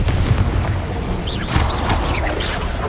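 A Confringo blasting spell bursts in a Hogwarts Legacy duel, a loud booming blast with crackling debris and whooshing magic swirls, dense and continuous across the moment with no speech over it.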